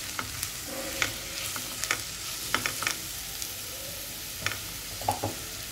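Onion chutney with coriander leaves cooks in a pan, a soft steady sizzle broken by scattered scraping clicks of a spoon stirring, with no voices.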